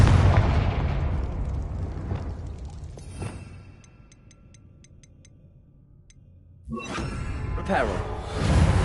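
A Confringo fire spell exploding in Hogwarts Legacy, a loud burst that rumbles and decays into quiet faint ticks before another loud blast and crackle follow.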